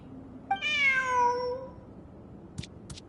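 A single clear cat meow from a kitty in the Genshin Impact video game, rising then trailing off over about a second, followed by two faint short clicks.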